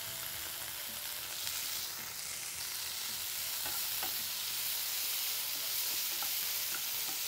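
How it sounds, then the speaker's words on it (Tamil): Brinjal and tomato sautéing in a pan, a faint, even sizzle with small scattered crackles and light stirring taps, steady throughout with no voices. "இந்த கத்திரிக்காய் வதங்கிறதுக்கு ஒரு 2-3 மினிட்ஸ் ஆகும்."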